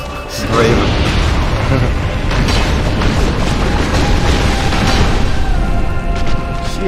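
A loud, sustained explosive roar from the boss Quelaag in Dark Souls Remastered, with dense rumbling and crackling that fills the clip from start to finish.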